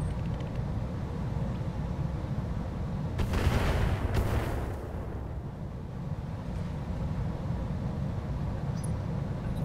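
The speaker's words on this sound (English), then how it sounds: "So that's the mortar." Mortar fire in the mech game Roguetech, a BattleTech mod, lands as a single deep, rumbling burst that swells and fades over a couple of seconds above a constant low battlefield drone.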